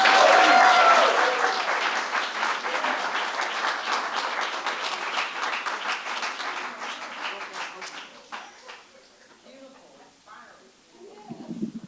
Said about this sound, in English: Let's give another round of applause for that beautiful poem.